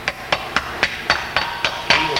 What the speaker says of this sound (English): you tap her down with a hammer